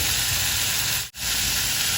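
Tomatoes cooking in a pan with salt, turmeric and chili powder for a Kerala-style tomato curry, giving a steady broadband sizzle and hiss that runs throughout, broken once by a brief dropout near the middle, with no talking.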